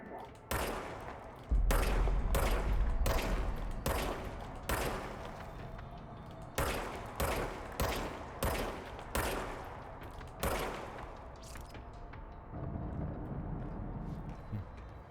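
Repeated bursts of gunfire from the service weapon in Control, a shapeshifting pistol. Sharp cracks come in quick clusters, some spaced and some rapid, loud and close over a low rumbling backdrop.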